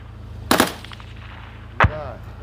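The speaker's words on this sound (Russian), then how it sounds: "Полетела граната." Thrown grenade exploding at a shooting range, heard as two sharp loud blasts with a quick double crack followed by a second separate bang about a second later, with faint echo between.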